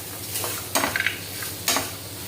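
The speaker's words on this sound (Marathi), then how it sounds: "हे सर्व साहित्य आपण भाजून घेणार आहोत। छानपैकी असं लालसर भाजून घ्यायचं आहे।" Peanuts, sesame seeds and garlic cloves dry-roasting in a pan, heard as a soft steady hiss with a few short, sharper scraping bursts from stirring.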